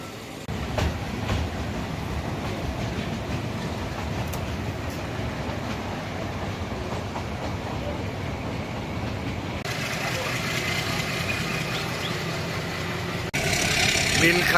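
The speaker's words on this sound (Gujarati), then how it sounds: "જૂનાગઢથી સાસણગીર જતા વચ્ચે આ બધા સ્ટેશને ટ્રેન ઊભી રહી છે" A meter gauge passenger train between Junagadh and Sasan Gir rumbles steadily from inside a carriage, a continuous low drone that grows a little louder toward the end.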